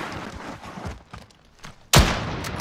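A single sharp gunshot from a bolt-action rifle in a first-person shooter game, one loud crack near the end after quieter rustling background sounds.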